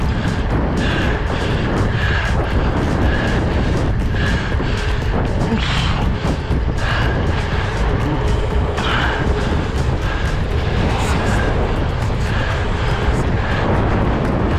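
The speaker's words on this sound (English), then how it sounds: "This headwind is fucking killing me." Strong headwind roaring over a microphone while cycling, a loud, dense, continuous rumble and buffeting that holds steady for about fifteen seconds, close and unbroken.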